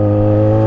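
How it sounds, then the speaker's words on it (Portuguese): A Yamaha XJ motorcycle engine runs loud and close in a short, steady, throaty burst with strong low harmonics and no talk over it. "olha minha moto como que é barulhenta"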